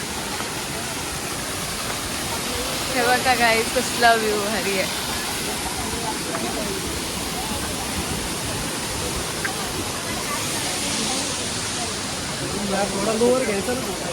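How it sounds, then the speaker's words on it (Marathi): Steady rushing water roars throughout like a nearby waterfall, with people talking excitedly over it. "धबधबाच हो, कसला मस्त इथून इथून खाली जाते"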